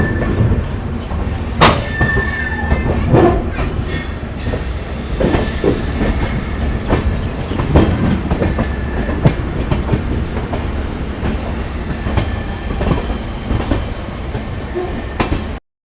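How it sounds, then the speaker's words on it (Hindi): The 12180 Intercity train runs just after leaving Agra Fort, heard from on board as a continuous rolling rumble with rhythmic clickety-clack of wheels over rail joints and occasional brief metallic squeals. "आगरा किला से 6:32 पर ट्रेन चली है"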